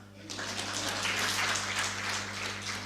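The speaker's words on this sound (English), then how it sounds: "Clap for her." Moderate applause breaks out from an audience at a seminar talk for a participant who answered a question, a steady patter of clapping over a constant low electrical hum in the room.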